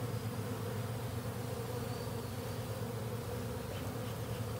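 Honeybees hum steadily around an open hive on a warm, partly sunny day of about 72 degrees, a dense, even drone that stays close and unchanging throughout with no voices.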